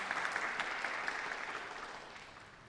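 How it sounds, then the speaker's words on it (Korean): Soft, steady audience applause at the 2020 Jinju song festival after a performance, slowly fading over about three seconds. "박수로 부탁드리겠습니다"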